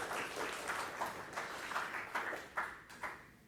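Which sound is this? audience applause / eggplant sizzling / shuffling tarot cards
audience applause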